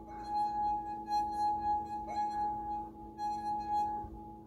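A drinking glass sings a sustained high note as a finger rubs along its rim during a children's music lesson, a pure ringing tone that swells and is briefly restarted midway.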